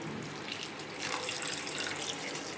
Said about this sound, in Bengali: এরপর পরিমাণ মতো জল দিয়ে এইটাকে বয়েল করতে দেব।